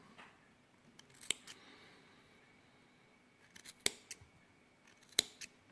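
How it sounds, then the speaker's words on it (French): Small scissors snip excess cotton wick on a 24mm dotmod-style vape RTA, a few sharp, quiet clicks spaced apart with near silence between them. "On va couper les petits surplus."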